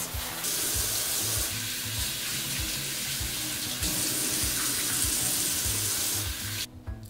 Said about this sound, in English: After I've rinsed the veggies for the rabbits and hamsters